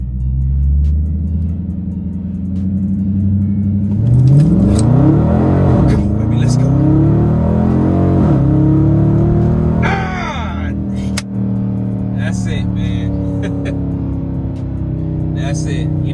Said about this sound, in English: let's go ahead and rev it up to 1500